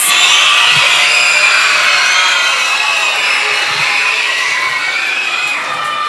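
Schoolchildren cheering and shouting loudly for student-of-the-month winners, a continuous high-pitched roar of young voices filling a room, sustained without pause.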